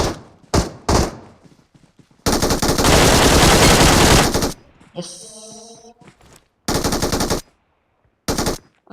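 Machine gun fire in a shooting video game: a long, loud, sustained burst, then two shorter bursts with gaps of quiet, a few sharp single shots, and a brief ringing tone in between.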